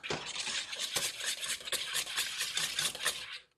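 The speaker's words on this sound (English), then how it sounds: "Just going to whisk it some more to get some of the lumps out." Whisk beating lobster mash batter in a bowl to smooth out lumps, quick scraping strokes with a steady brisk rhythm, close and fairly quiet, ending abruptly.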